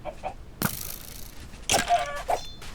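Chickens cluck in a desert survival video game, with short clucks and squawks over rustling thumps and mechanical clatter, moderately close and with no voices.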